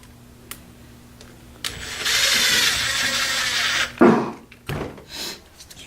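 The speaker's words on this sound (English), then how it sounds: "so you just put the screw right in" A power screwdriver drives a screw into the diff brace of a Traxxas Rustler 4x4 RC car, with a steady whirring run of about two seconds followed by short clicks and handling knocks, close up and with no talk.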